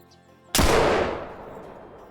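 A single rifle shot fired at a bull elk on a hunt cracks out sharply and loudly, then rolls away in a long fading echo across open country.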